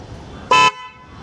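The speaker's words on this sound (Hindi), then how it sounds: "तो हॉर्न का आवाज़ काफ़ी लाउड है" A Bosch Symphony car horn gives one short, loud, bright musical blast lasting about a fifth of a second, close and clear against a quiet background.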